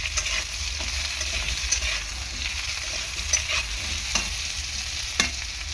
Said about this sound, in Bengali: ভালো করে আলুটাকে প্রথমে তেলে ভেজে নেব, আর ভাজার সময় একটু পরিমাণ মতো লবণ দিয়ে দেবো